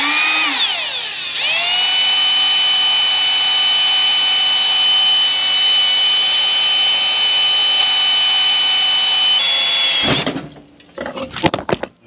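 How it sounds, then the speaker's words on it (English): A power drill boring a pilot hole in a sprocket spins up with a rising whine, holds a loud, steady high-pitched drone for about ten seconds, then winds down into a few clattering knocks. "I just drilled a pilot hole."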